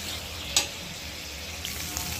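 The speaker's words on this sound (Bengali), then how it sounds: "এই অবস্থায় আমি আলুটাকে সুন্দরভাবে কষিয়ে নিই।" Potatoes frying in oil over medium-high heat while being stirred with spices, a steady close sizzle with a single sharp scrape of the spatula.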